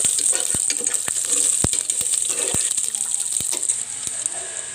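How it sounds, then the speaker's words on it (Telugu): Mustard seeds, cumin, garlic and curry leaves fry in hot oil, with a steady high sizzle broken by sharp, scattered pops and crackles from the seeds, close and lively. "స్టవ్ మీద ఆయిల్ హీట్ ఎక్కిన తర్వాత ఆవాలు, జీలకర్ర, వెల్లుల్లి వేసుకోవాలి"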